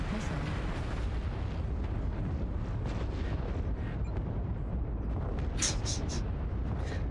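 Explosions and missile impacts rumble continuously in a MechWarrior Online battle, a dense low roar with a few sharp bright bursts near the end, loud and steady throughout.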